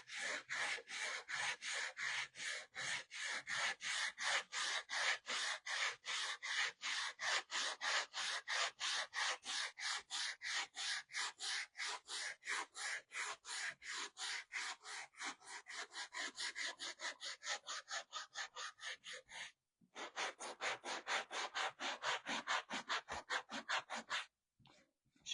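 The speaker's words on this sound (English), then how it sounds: "I'm going to sand it off a bit." Dried-out, rough wood sanded by hand, rapid rhythmic back-and-forth rasping strokes repeating steadily and close for over twenty seconds, with one brief pause and a few final strokes at the end.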